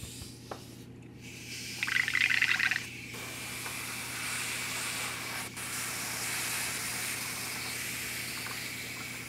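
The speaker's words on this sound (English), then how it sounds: "Mix it up in my airbrush." An airbrush sprays grape-purple paint in one short, close hissing burst of about a second, set against a steady low background hum.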